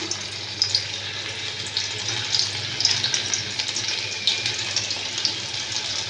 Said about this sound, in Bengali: এবার এগুলোকে আমি তেলে ভেজে নেব দেখুন তেলটা কিন্তু খুব ভালো গরম হয়ে গেছে